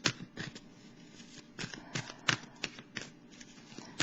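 A deck of tarot cards being cut and handled, giving a run of soft papery riffles and slaps in irregular bursts, close and fairly quiet with no talking.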